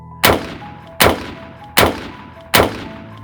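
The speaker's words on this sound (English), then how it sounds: "4 more gunshots sounded identical to the first, then nothing." Four sharp gunshots ring out at roughly even intervals, each a loud crack followed by a short echoing decay.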